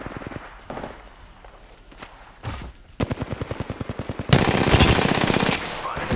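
Rapid automatic gunfire from the Revenant character in a video game, sporadic shots and footsteps first, then a steady rhythmic burst followed by a louder, denser volley, close and loud.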